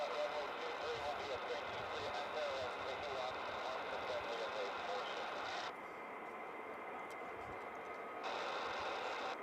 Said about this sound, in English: hopefully you can hear the planes okay